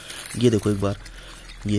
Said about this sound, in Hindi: बहुत ही कम बूंद बूंद करके यहाँ पर से भी पानी गिर रहा है